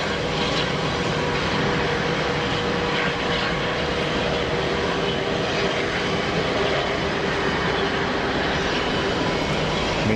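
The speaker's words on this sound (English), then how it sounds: "Dan's got the DC-3 flying over again." A DC-3 propeller aircraft flies over Geneva Airport, its piston engines producing a steady, loud droning hum that holds evenly throughout without fading.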